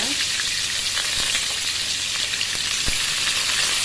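Onion and ginger hit hot oil in a frying pan and sizzle loudly, a dense steady crackle with a few faint clicks from stirring and no talking.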